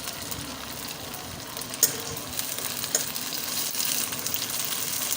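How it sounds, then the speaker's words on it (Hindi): Sliced okra (bhindi) fries in hot ghee with a steady, close crackling sizzle, punctuated by a couple of sharp spatters and light stirring, with no talking. "अब इनको घी में अच्छी तरह भून लेंगे।"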